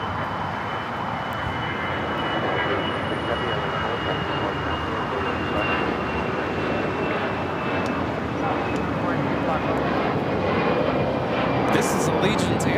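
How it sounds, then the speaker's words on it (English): An Allegiant Air Airbus A319 jet taking off at LAX gives a broad, steady jet roar with a faint high whine that holds at a constant loud level throughout, with a voice commentating over it. "This is Allegiant Air 773 taking off to Bentonville on the A319."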